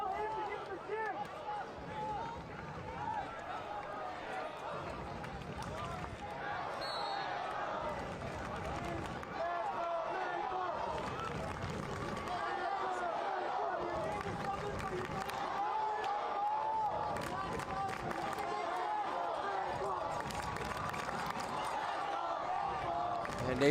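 A football stadium crowd at an FC Naples match against Portland Hearts of Pine roars and cheers in a steady, dense wash throughout, with a commentator talking over it.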